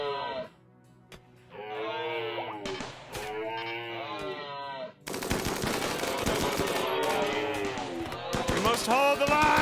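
Defensive gun turrets in the colony game RimWorld open up in rapid, dense bursts of automatic fire that swell loud and crowded in the second half, preceded by bleating animal-like cries and quieter stretches.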